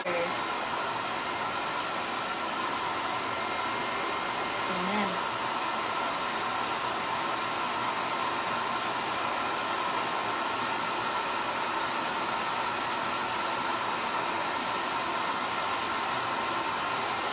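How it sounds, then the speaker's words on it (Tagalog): A loud pet grooming blower dryer roars steadily throughout while drying a dog, with a brief spoken word near the middle. "Blower ulit."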